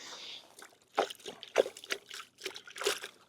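Fresh water and a measured dose of P&S Absolute car shampoo pour into a rinse bucket in short, quiet trickles and splashes, a few uneven bursts close by.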